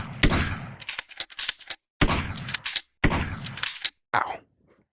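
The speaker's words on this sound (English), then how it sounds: "This is the shotgun of the Separatist team, which is my most favorite model of the shotgun." A Separatist team shotgun fires in the VRChat video game, four loud, close blasts, each with a short mechanical rattle and a quick decay, spaced about a second apart.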